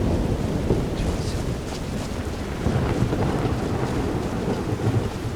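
Continuous thunderstorm ambience from the video game Skyrim: heavy rain hiss with deep rolling thunder rumbling underneath, loud and steady throughout with no voices.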